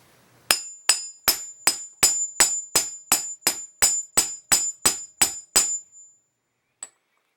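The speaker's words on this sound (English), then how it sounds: "grab your hammer, and just hammer it on" A hammer drives a Casablanca ceiling fan bearing onto a steel pipe with about thirteen evenly spaced, ringing metallic strikes, steady and close, followed by one faint final tap.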